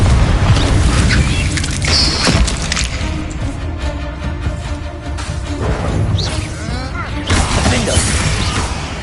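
Confringo spell blasts in the Hogwarts Legacy video game come as a loud, continuous booming and crashing with rumbling low-end impacts, along with debris-like cracks and clatter.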